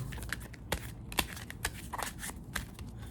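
Loose, irregular tarot card shuffling: soft papery riffles and taps in uneven bursts, close and fairly quiet, with no voices.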